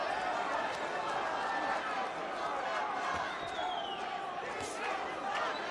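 A Puerto Rican crowd at a boxing match makes a dense, continuous roar of chanting and cheering that fills the whole stretch, with a commentator talking over it.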